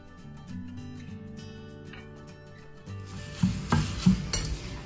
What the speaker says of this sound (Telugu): అర టీ స్పూన్ పసుపు వేసుకుని ఫ్రై చేసేసుకుందాం